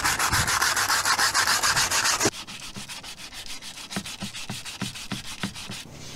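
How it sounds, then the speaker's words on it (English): A hand works 80 grit sandpaper over new teak on a small boat's cockpit, rounding off edges: first a fast, loud, continuous scrubbing, then slower, rhythmic strokes, about two per second, close up and with no voices. "now I just grab a piece of 80 grit sandpaper and start rounding off"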